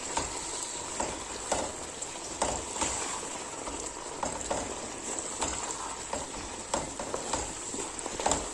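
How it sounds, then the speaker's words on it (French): Spinach with pistachio stirred in a sauté pan, a soft continuous sizzle broken by regular light scrapes and taps of the utensil. "Nous allons bien mélanger les épinards avec le pistache."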